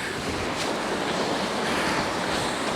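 Choppy sea waves crash along a windy coast, throwing up spray in a loud, continuous roar of surf mixed with wind buffeting.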